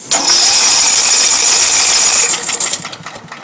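A Briggs and Stratton lawnmower engine struggles to run, giving a loud, rough, sustained roar for about two seconds before it sputters and dies away.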